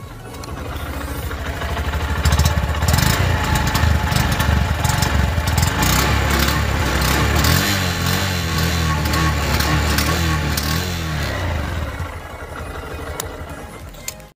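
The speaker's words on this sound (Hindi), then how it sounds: "सबसे पहले मैं होंडा साइन 125 का एग्जॉस्ट सुना दूं।" A Honda Shine 125 motorcycle idles and revs steadily nearby, a continuous low exhaust drone with slight throttle swells, no talking.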